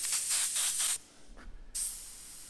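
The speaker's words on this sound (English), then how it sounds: "spraying nicer with that air cap removed" A Sagola XTECH 500 airbrush with its air cap removed and needle exposed gives a steady close hiss of spray, which cuts out for about a second of quiet fiddling before the hiss resumes, strong and even.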